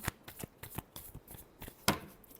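Tarot cards being shuffled by hand, a series of quick riffling flicks and soft slaps close up, ending in one sharper snap, with no voice over it.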